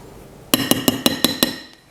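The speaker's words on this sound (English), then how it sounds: "Cleaning my spatula off too." A spatula being cleaned off against a bowl or pan while making rum cake: six quick, evenly spaced metallic clinks and taps, close and fairly loud, fading out afterward.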